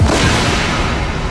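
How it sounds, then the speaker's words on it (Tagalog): Boxes of confiscated illegal firecrackers set to burn on a vacant lot in Tarlac suddenly exploding, a dense, continuous roar of overlapping blasts and crackling that stays loud through the whole stretch. "biglang sumabog yung mga kahong-kahong paputok"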